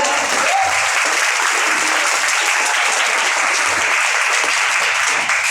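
Dense, loud audience applause fills the whole stretch steadily, a continuous wash of many hands clapping at a Hindi motivational lecture, with no talk over it.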